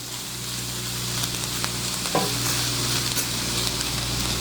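A mixture is stirred in a sizzling pan for a low-budget dish, a steady hiss of frying under soft scraping strokes of the spoon, close and continuous with one brief clink partway through.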